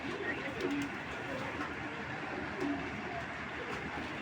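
A racing pigeon of Belgian or Chinese club stock gives two faint, soft low coos against a quiet, hissy room background.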